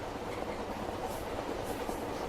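A train rolls along its rails in the Silent Hill 3 video game, making a steady rumbling, rattling drone heard from inside the carriage. The sound is continuous and unbroken, with no speech.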